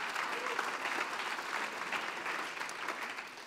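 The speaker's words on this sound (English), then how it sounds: "Can we give them a big old clap?" In a church, the congregation gives the worship team a round of applause, a thick, even crowd of clapping hands that holds steady throughout.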